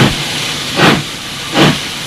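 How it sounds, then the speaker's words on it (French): Steam vents from the piston of an early French steam locomotive in two loud, breathy hisses about a second apart, close and rhythmic, with steady mechanical noise in between. "Le retour du piston s'accompagne de l'évacuation de la vapeur froide"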